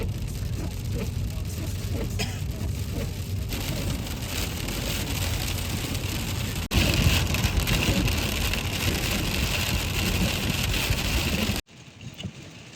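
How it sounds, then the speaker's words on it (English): Hail pelts a vehicle in a hailstorm near Yellowstone National Park, a dense, continuous drumming of hard impacts that stays loud throughout, jumps briefly in intensity and then cuts off sharply. "We are in a hailstorm."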